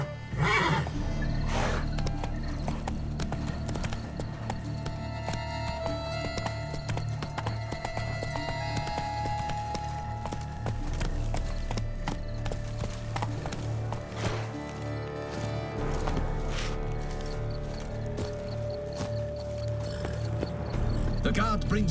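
A horse in The Witcher 3: Blood and Wine whinnies and snorts while its hooves clop in a steady rhythm, set against game music and ambient sound, with voices speaking throughout.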